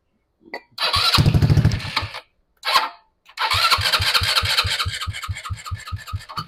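An RPS ATV150 sport quad, given starting fluid after sitting with a clogged fuel system, cranks in a short burst, catches briefly, then fires and settles into a loud, close, rapidly pulsing single-cylinder idle.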